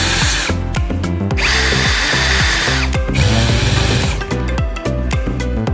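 Power drill driving cover screws into a PV combiner box in repeated short bursts with pauses between them, loud and close, and no voices.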